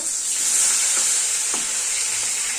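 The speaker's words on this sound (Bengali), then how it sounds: "মাছটাকে ভালো করে ভেজে নিতে হবে মাছটাকে উল্টিয়ে নেব" Mustard-coated fish fries loudly in a pan, a dense, steady hiss of hot oil with a couple of brief scraping knocks as the pieces are turned, close and continuous.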